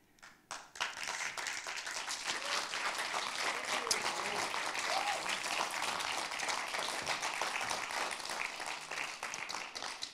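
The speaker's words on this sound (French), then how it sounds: "On peut l'applaudir encore une fois" Audience applause after a high school student's speech at a public speaking contest, a dense sustained burst of many hands clapping that starts abruptly and carries on steadily for about ten seconds, with faint voices underneath.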